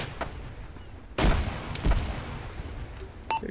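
Enemy gunfire in a coastal-defense battle in a military shooter game: a few sharp, booming shots crack out at a distance over a low background hum, with a brief metallic ping near the end.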